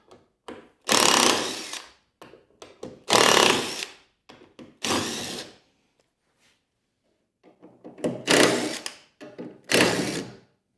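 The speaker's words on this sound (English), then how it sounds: "got my trusty rusty socket gun," A rusty socket gun whirs in short, loud bursts, about six of them with pauses between, while taking out a stair newel bracket during an 1884 house renovation.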